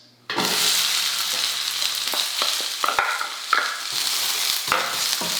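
Onions frying in a pan for beef stroganoff, a steady close sizzle with intermittent stirring scrapes and clicks, no talk.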